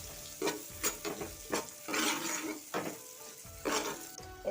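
Panch phoron, dried red chilli and turmeric powder fry in hot oil for dal tempering, a soft sizzle broken by repeated bursts of stirring and spoon scrapes against the pan, close but quiet.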